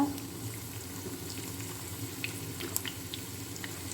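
Dried red chillies and curry leaves fry in hot oil with shallots for a Kerala fish curry, giving a steady, close sizzle and crackle with small pops and no talking.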